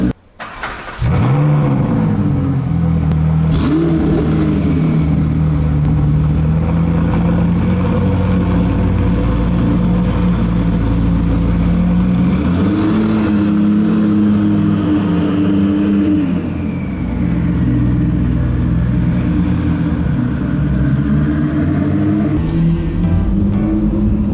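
A McLaren 650S Spider sports car engine fires up and settles into a loud, deep, close idle, swelling with a couple of throttle blips before dropping back.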